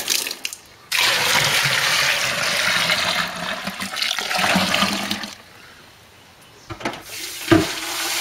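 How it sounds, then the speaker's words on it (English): Cold water gushes steadily into a home lager brewing container for several seconds, a full rushing pour that stops, followed by a few faint clunks and knocks. "I'm topping it up with purely cold water"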